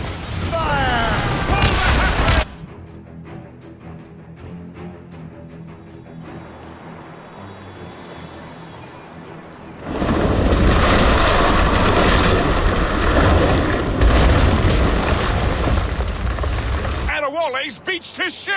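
Ship cannons firing in a naval battle in Assassin's Creed Rogue: loud sustained booming and roaring blasts in two long stretches, with a quieter pause between them and voices speaking over the action.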